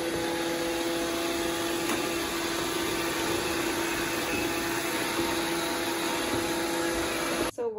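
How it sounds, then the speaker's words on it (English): An iRobot Roomba 614 robot vacuum runs steadily, its close, continuous motor whine and brush hum holding level throughout before cutting off abruptly at the very end. "one thing I do like about the Roomba is it will go over my bathroom rug and vacuum that up"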